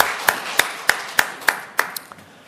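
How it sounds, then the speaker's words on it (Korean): A church congregation claps together in slow unison, roughly seven sharp, evenly spaced claps in a steady rhythm, with the last one trailing off softer. "하나님께 영광의 박수를 보내겠습니다"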